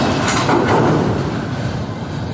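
Conrail autorack freight cars roll past at a junction with a steady, loud rumble and a faint clickety-clack of wheels, a continuous close pass with no voices.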